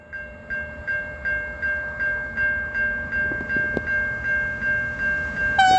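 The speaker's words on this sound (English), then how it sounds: "got a train coming this direction." An Australian VFT train rushes by at night at speed, with rhythmic, repeating clacks and a sustained tonal whine, ending in a short horn-like blast.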